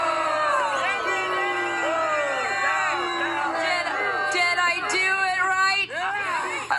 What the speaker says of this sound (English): to know from the crowd how you feel about the gutless, spineless, cowardly Prime Minister Trudeau